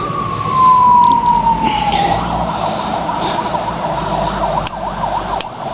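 A fire engine on a call toward Poznań passes with its siren wailing in a falling sweep that then fades under loud traffic rumble, with no talking.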